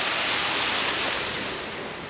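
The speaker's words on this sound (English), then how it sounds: "we're having to let some water out of the bottom lock" Water rushes out of the bottom canal lock chamber, a loud, dense, steady roar that eases slightly toward the end, with no voices.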